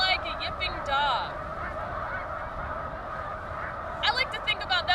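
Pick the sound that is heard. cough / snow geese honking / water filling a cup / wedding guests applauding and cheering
snow geese honking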